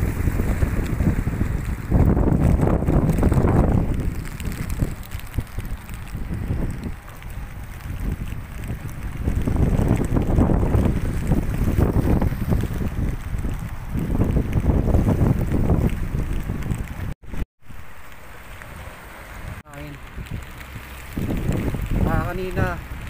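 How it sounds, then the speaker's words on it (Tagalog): Strong typhoon winds (Typhoon Ulysses) buffet a harbor in Navotas, roaring in heavy gusty surges with mic-battering rumble, a brief dropout near the end, and some voice mixed in. "sobrang lakas ng hangin"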